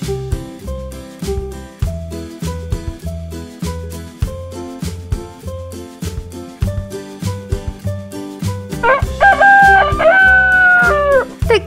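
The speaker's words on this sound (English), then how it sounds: "Gallic rooster or cockerel is a type of French rooster breed." A Gallic rooster, a French breed, crows in a rising, wavering call near the end, over loud, rhythmic music that carries on throughout.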